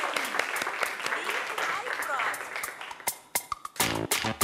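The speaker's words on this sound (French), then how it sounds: "Merci de l'applaudir très," Audience clapping for a schoolboy introduced at a Christmas-day midday show, busy and uneven, giving way to a few sharp isolated claps and a brief musical tone near the end.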